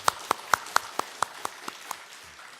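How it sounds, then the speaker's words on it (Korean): A church congregation claps in welcome with a steady, evenly spaced rhythm of sharp claps, about four per second, that gradually softens and stops after a couple of seconds. "우리 박수로 환영해야 될 것 같아요"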